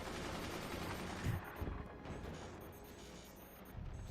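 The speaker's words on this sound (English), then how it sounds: "Ah, he's doing sky mortars." Sky mortars firing overhead during a Forts RTS match, a dense, continuous rumble of gunfire-like blasts with a couple of louder thumps standing out.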